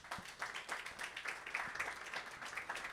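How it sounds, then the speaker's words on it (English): Audience applause at a quiz show as the new champion, Gaurav Keskar, is crowned, steady dense clapping filling the room evenly without a break, moderately distant and fairly quiet. "Big round of applause for Gaurav Keskar"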